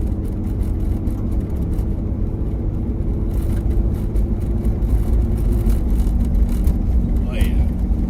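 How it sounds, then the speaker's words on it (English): Jeep Cherokee with a freshly adjusted throttle valve cable driving on the road, its steady engine and road drone loud and continuous as the automatic transmission shifts smoothly between gears. "So we got the throttle valve cable adjusted, and we'll see how it shifts."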